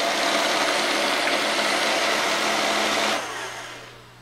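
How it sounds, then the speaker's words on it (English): Roomba robot vacuum motor running with a steady, close whirring hum that holds evenly for about three seconds, then cuts off and winds down into quiet. "turn on the vacuum."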